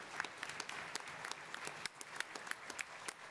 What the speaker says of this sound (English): I get applause just for being here